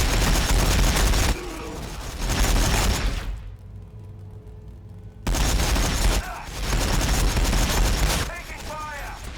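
Gunfire raking units in a Warhammer 40,000 battle video game between T'au and Ork armies, with dense rattling volleys and booms in loud waves, a brief near-silent lull in the middle, then another roaring burst.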